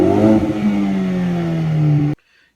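A tuned Ford Focus ST engine with cold spark plugs revs high and holds a strained, steady tone, pitch sliding slightly down before cutting off abruptly into silence.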